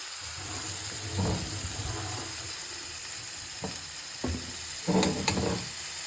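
Chopped tomato and dill leaves fry in a pan for vegetable uppitu, with a steady hiss running throughout and a few scraping stir strokes, the last ones louder near the end.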